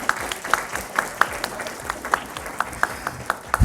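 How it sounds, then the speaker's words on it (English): An audience at a student advisory council meeting claps for a few seconds, a moderate spread of individual hand claps rather than a dense roar, with murmured speech underneath. "Let's give them a round of applause."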